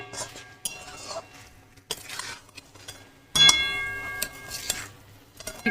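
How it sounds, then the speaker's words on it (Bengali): Paneer pieces are stirred in a pan with a utensil, giving scattered metallic clinks and scrapes, some soft and some sharper, in irregular bursts with quiet gaps between them. "এবার এটাকেও বেশ ভালো করে নাড়িয়ে নেবো"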